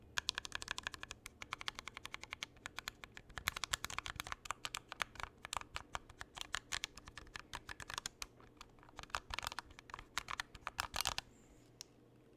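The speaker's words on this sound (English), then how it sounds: "that's just a little typing test sample for you guys there" Rapid keystrokes from a mechanical keyboard during a typing test, a steady close-up clatter of individual key presses running continuously with brief pauses and fast bursts.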